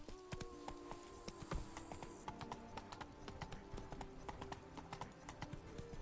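Horse hooves clip-clopping in The Witcher 3 video game, a fast steady rhythm of sharp hoof strikes at close range with faint background ambience.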